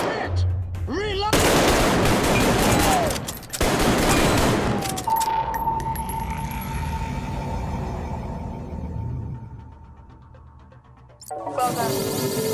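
Gunfire in the VR shooter Arktika.1 comes as dense, loud bursts of rapid automatic shots in two long stretches, then lingering electronic tones and a hum before the firing resumes near the end.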